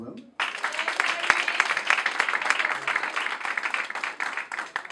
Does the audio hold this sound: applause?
yes